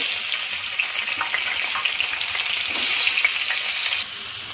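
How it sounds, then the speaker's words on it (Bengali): Potato pieces with a green chili and black cumin fry steadily in hot oil, a dense, close crackling sizzle that holds even throughout before suddenly dropping quieter near the end. "ওর মধ্যে একটা কাঁচা লঙ্কা ছেড়ে দিব, একটু কালো জিরা ছেড়ে দিব। ওর মধ্যে আলুটা ছেড়ে দিব।"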